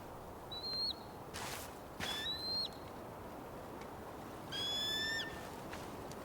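A bird in the game Tell Me Why gives several clear, high calls that rise and fall. They come in three separate bursts over a faint outdoor ambience, with a few soft footsteps.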